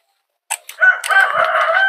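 A young fighting cock crows once, close and loud, a short opening note followed by a sustained strained cock-a-doodle-doo after a brief silence.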